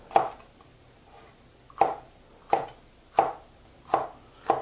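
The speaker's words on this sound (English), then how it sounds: "I'm going to take these and cut simple little rings" A knife slices peppers into thin rings on a cutting board, six crisp, separate chops spaced about a beat apart, close and clear over a quiet background.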